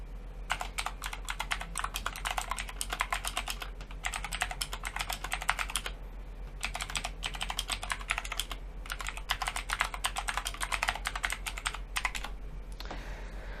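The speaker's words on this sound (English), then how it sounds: "So I just wrote, hello, this is a test of the Ajazz AK33 mechanical keyboard." Steady bursts of fast mechanical key clacks from an Ajazz AK33 mechanical keyboard, typed in several runs with short pauses between, close and crisp with no talking.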